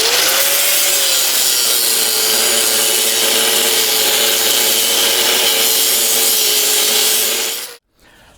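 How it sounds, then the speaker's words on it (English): A saw grinds steadily through a steel U-bolt on a 1963-72 Chevy or GMC truck for about eight seconds, loud and close with a whining tone, then stops abruptly. "I will cut my U-bolt at the top right here"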